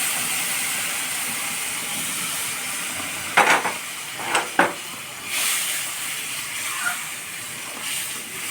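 Sugar syrup poured onto browned, fried semolina for suji halwa sizzles in sharp hissing bursts over a steady background hiss, then swells into a longer fizzing surge.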